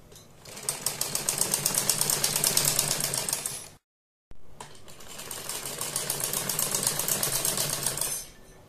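A sewing machine stitches a sleeve onto a kurti in two rapid runs of rhythmic mechanical clattering, close and steady, separated by a brief silent pause.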